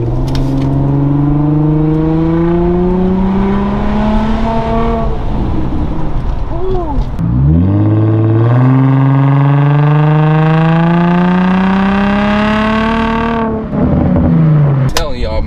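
An Infiniti G35 with a Vibrant resonator and muffler delete pulls loudly and close up through the gears. The exhaust note climbs steadily, drops at each shift and climbs again, with no pause across the whole stretch.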